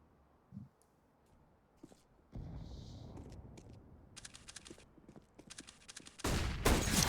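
Gunfire in CS:GO on the Nuke map during a professional tournament match, with bursts of rapid shots coming in clusters, loud and close near the end, over quieter game sounds.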